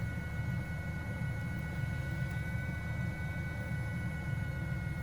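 Helicopter engine spooled up and running steadily in Microsoft Flight Simulator, a Helisika classic livery machine on a passenger mission, giving a continuous low whirring drone with steady tonal whine above it, unbroken and even for the whole stretch.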